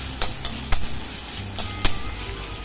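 Onions turning translucent for a clam fry crackle gently in a pan while a metal spoon scrapes and clinks against it about seven times in an irregular rhythm; no talking.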